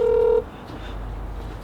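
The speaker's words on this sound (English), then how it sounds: "Make a phone call real quick." A single steady telephone dial tone sounds clearly for a moment, then cuts off abruptly, leaving quiet room noise. It is heard beside a Subaru WRX STI that knocks on first start.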